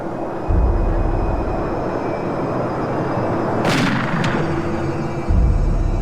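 Two sharp gunshot cracks, a second apart, ring out over a loud, constant low rumble.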